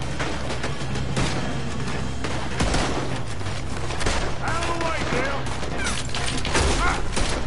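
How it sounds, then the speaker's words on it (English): Shooting in the video game Red Dead Redemption 2 with a BB gun, a busy mix of repeated gunshots and bangs over a loud game soundscape, with brief tonal game sounds in the middle. "I'm shooting these guys. I'm using a BB gun, apparently."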